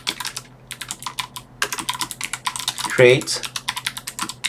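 Keys clatter on a computer keyboard as a command is typed into a terminal, a steady run of close, quick clicks with brief pauses, while someone speaks briefly over the typing.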